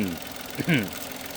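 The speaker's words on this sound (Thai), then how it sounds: "นี่เสียงเครื่องยนต์" Low rumbling idle of a 2013 Mitsubishi Mirage engine with a steady mechanical pulse, and a person's voice briefly speaking over it.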